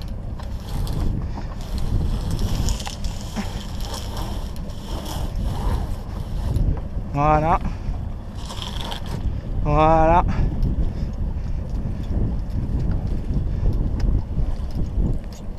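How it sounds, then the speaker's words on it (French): Sailboat engine purring steadily as the boat enters a harbor channel, a low continuous drone under wind noise and creaking mechanisms, with someone speaking briefly and two short whistle-like squeals midway. "Le moteur qui ronronne."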